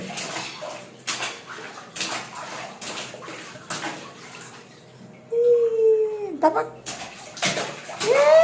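A child splashes in warm bathwater, the slaps and sloshes coming in a loose rhythm close up, while a child and an adult talk and the child makes a rising squeal.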